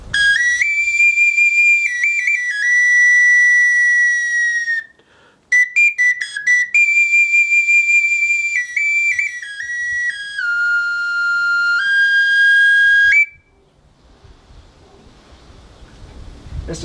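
A replica pre-Hispanic whistle flute with a higher pitch, blown in shrill sustained tones that step between notes, broken by a brief pause and fluttering stops, then ending in quiet rustle.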